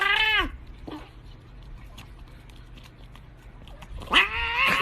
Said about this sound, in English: That's a fat cat.